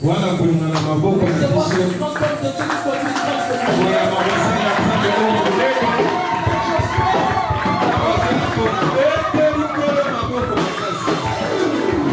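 A church audience fills the hall with loud, sustained acclamations, a dense crowd roar of shouting and cheering voices that runs without a break.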